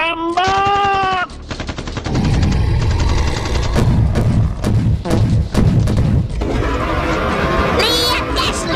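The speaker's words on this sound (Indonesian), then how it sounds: "Semua prajurit, tembak!" Animated gunfire as soldiers are ordered to shoot: loud rapid bursts of shots and booms rattle on for several seconds, with short voiced cries at the start and end.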